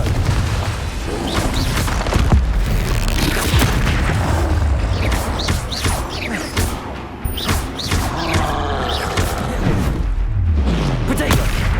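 A Confringo spell explodes repeatedly in Hogwarts Legacy during a troll fight, loud booming blasts and crashing impacts in quick succession over game music, with a voice shouting briefly.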